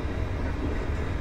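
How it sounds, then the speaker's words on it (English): A train rushes past on the fast line, a loud continuous rumble and rattle of rail cars heard close by and steady throughout, with no talking. "There is a train in the fast lane."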